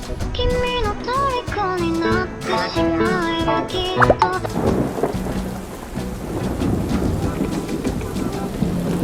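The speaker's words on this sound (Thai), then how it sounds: "ไปตอฟฟี่ไม่ได้แล้วฝนตกเต็มเลย" Heavy rain pours down steadily at a resort in the Maldives, a dense close hiss with pattering drops, while tonal voices or music sound over it in the first half before the downpour takes over.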